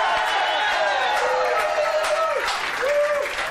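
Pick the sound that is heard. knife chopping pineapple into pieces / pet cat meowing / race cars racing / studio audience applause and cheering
studio audience applause and cheering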